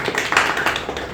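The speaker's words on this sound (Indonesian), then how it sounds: "Tepuk tangan dong" A small group claps briefly in a quick flurry of close, overlapping hand claps lasting about a second.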